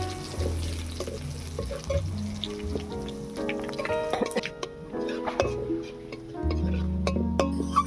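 Dried chilli, nigella seeds, garlic and bay leaf fry in hot oil for a tempering in a village kitchen, with a steady close crackle and sputter running throughout alongside occasional clinks.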